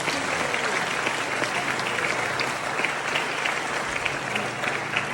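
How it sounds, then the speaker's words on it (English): Audience applause for faculty and staff at a high school graduation in the Philippines, a steady dense wash of many hands clapping from a large crowd, continuous throughout without speech. "Let's give them a round of applause."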